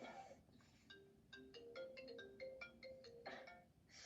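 A phone ringtone plays a bright electronic melody of quick rising and falling notes, clear and close for about four seconds, with no speech.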